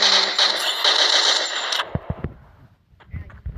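Rapid automatic gunfire from the video game Free Fire crackles in a dense burst for nearly two seconds, then gives way to a few scattered thumps and quieter clicks.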